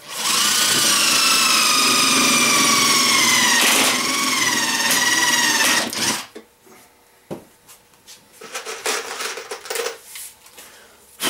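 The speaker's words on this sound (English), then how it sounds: "I'm just going to go ahead and drill it and put a screw in it." Power drill driving a screw into wood while an ammo box is built, a loud close whine with rising pitch running for about six seconds before stopping, then quieter knocks, clatter and shop handling sounds.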